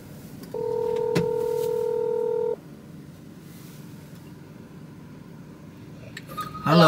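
A phone dial tone buzzes steadily for about two seconds, broken by a single keypad beep, before fading into quiet background ambience as a call is placed from a building lobby.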